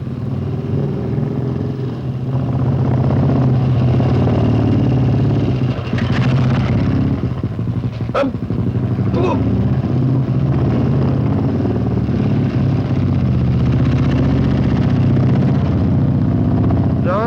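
A Royal Enfield Bullet motorcycle engine runs continuously at a steady throttle, loud and close, with a brief rev partway through.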